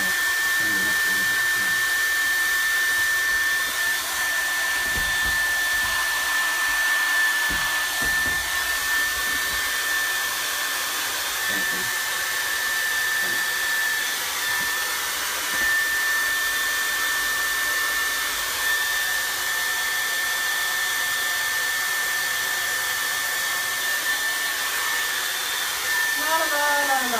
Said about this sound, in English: I've watched that back before when the hairdryer comes on